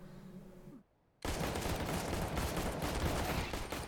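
Gunfire in a first-person shooter game, with a brief quiet gap followed by a sustained, loud burst of rapid automatic shots, close and without speech.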